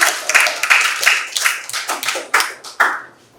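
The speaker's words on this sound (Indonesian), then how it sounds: "Kita beri tepuk tangan untuk kelompok 1." A classroom group claps for the first presenting team: a few distinct, uneven bursts of close hand claps over about three seconds, fading out at the end.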